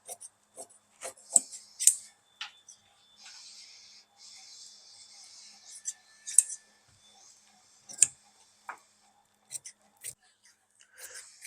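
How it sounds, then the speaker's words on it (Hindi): Scissors cut crosswise through trouser fabric in a run of crisp, close snips separated by short gaps, with soft rubbing and faint whispery sounds between them in an otherwise quiet room. "अब इसको हम काट लेते हैं इसे क्रॉस में।"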